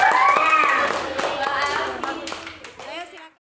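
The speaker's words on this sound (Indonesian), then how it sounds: "Kita beri aplaus." A classroom of students claps for a student group that has just performed, a dense burst of applause that thins and stops after about three seconds, with children's voices mixed in.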